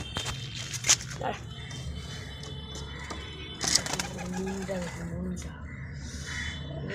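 A pigeon coos softly in low repeated notes, close by, while a person talks over it and brief sharp rustles break in.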